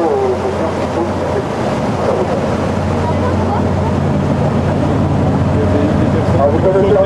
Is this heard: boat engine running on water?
yes